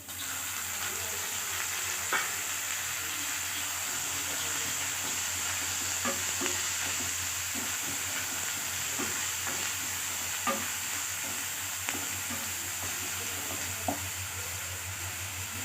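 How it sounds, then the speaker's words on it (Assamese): Onions fry steadily in a pan for a rohu fish curry with sesame, making an even sizzle throughout with scattered light clicks of stirring and no talk. "এইখিনি মই 5 মিনিট ভাজি লওঁ।"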